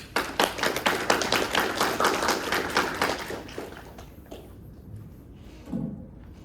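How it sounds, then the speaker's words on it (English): A small audience gives a round of applause for a keynote speaker at a robotics talk, a few seconds of scattered clapping that thins and fades out. "let's give a big round of applause to Chris"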